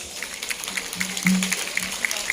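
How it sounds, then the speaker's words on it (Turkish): Spectators at the Şile municipality summer sports school closing ceremony applaud the athletes and instructors, a steady crowd clapping texture with faint repeating tonal blips running through it. "Çok güzel bir alkış alacağım onlar için"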